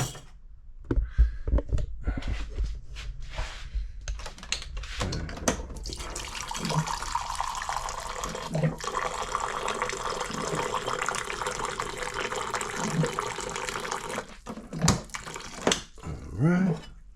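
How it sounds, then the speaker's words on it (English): Water streams steadily from a dispenser into a coffee cup for about eight seconds, a continuous close hiss with faint clinks before and after, preceded by someone talking. "Here's my coffee cup. Let me go in the back here. And the water dispenser"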